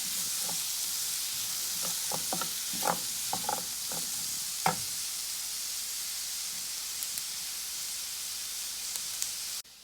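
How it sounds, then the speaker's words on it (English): Peppers frying in a pan over a high flame as shakshouka sauce is started: a steady sizzle throughout, with scattered clinks and scrapes of stirring in the first half. "we're going to keep mixing our peppers in. We'll let it cook on a high flame for about 15 minutes."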